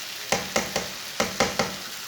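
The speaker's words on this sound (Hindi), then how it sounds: "2 मिनट तक दोबारा मैंने भून लिया है। अब चूल्हे को बंद कर देंगे।" Okra curry (bhindi salan) sautéing in a pan, with six short stirring scrapes spaced roughly every quarter second over a steady low sizzle, close and moderately loud, no voices.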